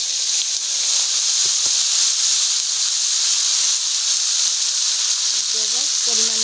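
Chopped bottle gourd and a few cumin seeds hit hot oil left from frying hilsa fish, a loud continuous sizzling hiss up close, with a few small clatters and a brief voice near the end.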